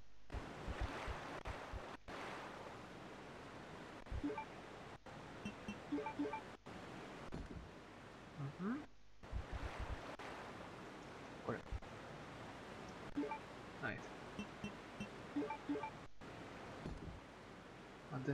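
Strong rushing water current in Resident Evil 2, a steady broadband surging wash that runs through the whole stretch with brief dropouts, while someone talks over it.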